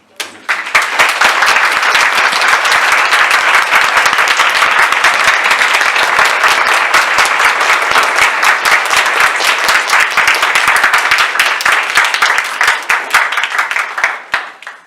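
Loud, dense audience applause fills an event hall after a fighters' competition, rising quickly, holding strong and steady for many seconds, then tapering near the end.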